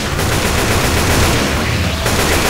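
Rapid bursts of automatic gunfire crack nonstop in a zombie video game, loud and dense, with a brief dip near the end before the shooting resumes.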